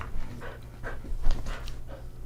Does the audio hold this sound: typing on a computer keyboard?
no